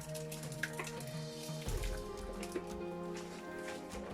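A thick mixture for dried okra soup pours and splatters into a pot with wet, squishy sloshing, close and fairly quiet over a low background hum.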